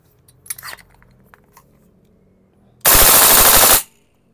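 A VFC gas blowback airsoft rifle, an XM177 or Colt M723 style AR-15, fires one loud, fast full-auto burst lasting about a second. A few quiet handling clicks come before it.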